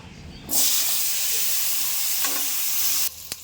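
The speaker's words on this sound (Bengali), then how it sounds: "আলুগুলো ভেজে নেব" About 250 grams of potatoes drop into hot oil and a loud, steady sizzle erupts, hissing continuously for a few seconds with faint stirring clinks near the end.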